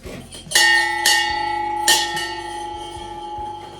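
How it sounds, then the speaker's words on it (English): A bell struck three times, each ring bright and sustained with a long ringing decay, fairly close, with low background rumble. "So 3 rings on the bell."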